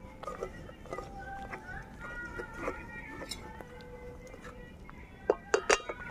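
A metal ladle stirs boiled lentils (dal) in a cooking pot, giving soft scraping and then a few sharp clinks near the end, while a voice talks over it.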